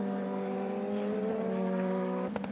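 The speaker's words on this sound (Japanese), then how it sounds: "そしてリボルバーで接触、キャシディは痛恨のスピン" A Super Formula race car runs at high revs after contact at the Revolver corner and spins, a sustained loud harmonic engine whine that shifts pitch, ending with a brief sharp scrape or tire noise near the end.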